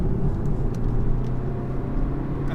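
A 2020 BMW 320d diesel with a mild-hybrid system accelerates, heard from inside as a steady low engine drone and road rumble with a few faint clicks and no talking.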